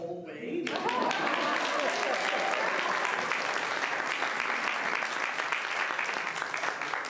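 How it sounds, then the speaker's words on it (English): Warm audience applause at an author event welcoming guests onto the stage, a thick continuous wash of clapping from a full room that starts abruptly after a brief spoken moment and carries on steadily. "It's almost nice when you can keep the applause going the whole way."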